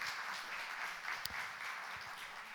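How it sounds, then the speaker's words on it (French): A church congregation applauding during a Sunday service, a soft, even wash of many hands clapping at a distance, steady and fairly faint with no one speaking over it. "J'aimerais qu'on applaudisse le Seigneur pour toutes ces choses-là"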